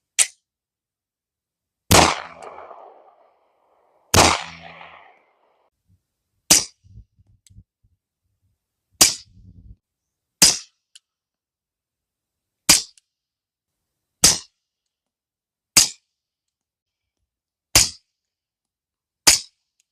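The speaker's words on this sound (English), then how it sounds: "So here's 2 of the FMJs through the Glock 19." Unsuppressed Glock 19 pistol firing full metal jacket rounds outdoors, eleven loud, sharp, separate shots at irregular intervals of a few seconds, with short echoes and faint clatter between some of them.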